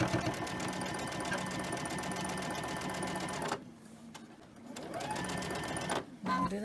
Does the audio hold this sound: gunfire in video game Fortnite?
no